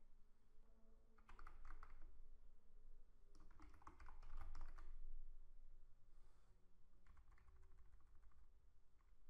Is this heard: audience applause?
no